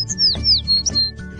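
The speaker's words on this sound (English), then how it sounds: "The mama bird is feeding the baby bird." A baby bird squawks in short, shrill, repeated calls while its mother feeds it, loud and close, with no talk.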